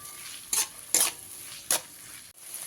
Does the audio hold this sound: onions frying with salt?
yes